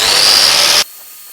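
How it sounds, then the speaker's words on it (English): Power grinder cutting away a rusty bodywork edge on a Porsche 928, a loud, steady high-pitched whine of abrasive on metal that cuts off abruptly partway through, leaving quiet room tone. "Let's just grind this off though and see if that fits better."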